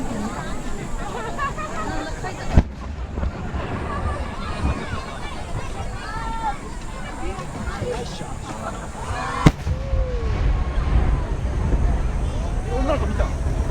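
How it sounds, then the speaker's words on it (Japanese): Fireworks at the Mito Komon festival pop and crackle continuously, with two sharp louder bursts standing out, heard at a distance over a murmuring crowd and occasional talk. "左上がりのような花火です。"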